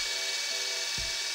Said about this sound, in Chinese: 电钻炫起来，地方妈妈都爱你。